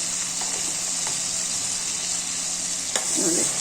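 Steady hiss of turmeric, salt and spices sizzling in hot oil for a dal tempering, continuous and close, with a few small pops and a light clink near the end.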